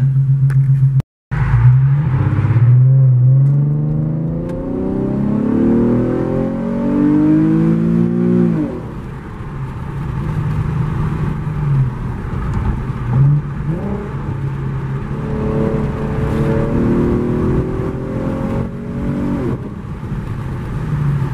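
A 2015 Infiniti Q50 3.7L with a muffler delete revs repeatedly, pitch climbing and falling in long sweeps, loud and close, with a steady rumbling idle between revs.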